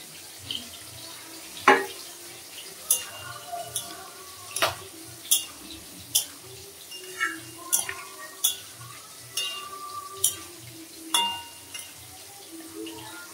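Taro being stirred into a pan of fried spice paste for a hilsa fish curry, a series of sharp scraping clinks from a spoon against the pan recurring every second or so, fairly quiet, with no talking.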